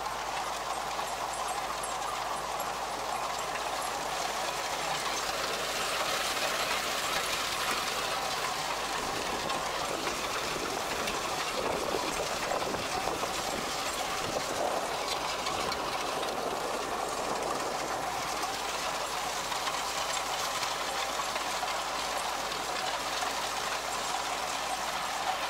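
An MTZ-80 tractor engine runs steadily in a field while working with an SZT-3.6 seeder, giving a continuous, fairly faint mechanical drone with a knocking undertone and no voices.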